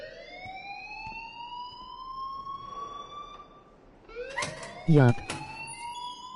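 An alarm rings in a video game, a rising, steady electronic wail that holds for several seconds, then a short word and sharper clattering bursts break in near the end.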